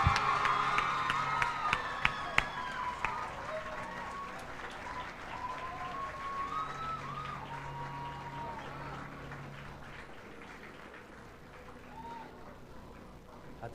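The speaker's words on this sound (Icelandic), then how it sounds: "Enn aftur klapp." Applause and cheering from a student election-night crowd, loud at first with whoops and shouts, then gradually thinning and fading over the following seconds.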